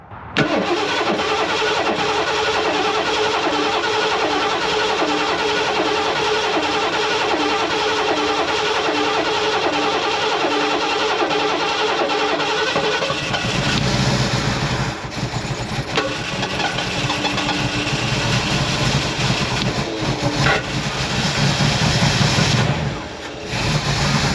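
A 1978 Lincoln Continental's 460 V8 cranks and catches, then settles into a loud, steady rumbling idle that surges and revs briefly near the end.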